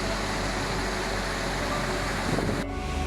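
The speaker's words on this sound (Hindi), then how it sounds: "एक झरना, जैसे खुद प्रकृति गा रही हो कोई राग।" A waterfall at Belvedere Point in Matheran gives a steady, broadband rush of falling water mixed with wind buffeting the microphone. It is fairly faint and continuous, then cuts off sharply just before the end.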